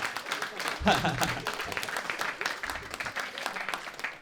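Comedy-club audience at a stand-up gig bursting into applause and scattered cheers, a dense wash of clapping that swells after a beat and carries on steadily, with a voice faintly mixed in.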